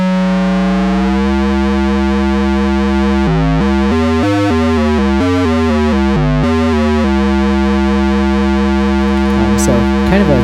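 A sustained ARP 2600 synthesizer tone with rich harmonics, its pitch stepping and warbling rapidly in the middle from oscillator frequency modulation by a sine wave, then settling back into a steady buzzing drone.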